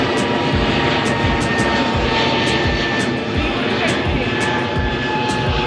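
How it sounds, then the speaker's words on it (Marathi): An airplane passes low overhead near a hilltop trekking spot in Wagholi, a loud, steady engine roar that fills the whole stretch without fading. "इथे विमानच विमान आहेत आकाशात"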